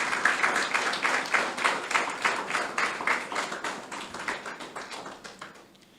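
An audience applauds after a speech at a public health event, a dense burst of many hands clapping that gradually thins and fades out to silence.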